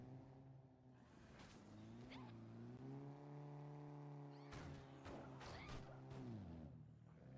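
Engine drone of a car driven in the zombie video game Dead Rising 3, a steady tonal hum that rises and falls with revving, interrupted by sharp impact and crash noises near the end.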